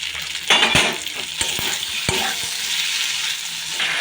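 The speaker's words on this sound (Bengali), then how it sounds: "আলুটা দিয়ে নাড়তে হবে" Fried potatoes are stirred through spiced masala in an oily pan, giving a steady sizzle and frying hiss broken by several sharp clinks and scrapes of the spoon against the pan, close and with no talk.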